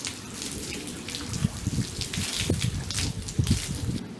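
Running water streams steadily from a tap, splashing and dripping as soap is rinsed off a dog's clamped tail, with a continuous close wash and occasional louder splatters throughout.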